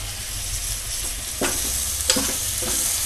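Mutton with turmeric and red chilli powder stirred in a pot before pressure cooking, a constant close sizzle broken by a few scraping knocks of the spoon, no voices.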